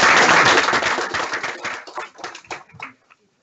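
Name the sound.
audience applause at a meeting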